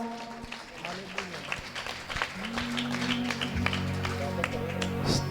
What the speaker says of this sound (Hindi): आइए जोरदार ताली लगाएंगे परमेश्वर के लिए।